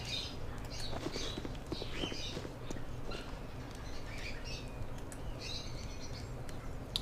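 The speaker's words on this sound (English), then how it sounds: "This is an elaborate indoor aviary filled with exotic plants as well as numerous strange birds." Scattered chirps and calls of exotic birds inside an indoor aviary in Baldur's Gate II, faint and continuous over a low ambient hum.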